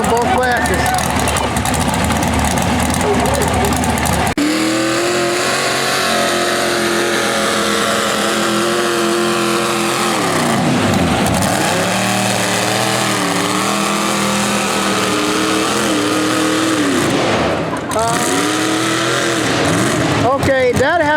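Loud pulling-tractor engine at a county fair tractor pull with a fuel delivery problem, roaring and revving continuously with rising and falling pitch sweeps, while an announcer talks over the noise.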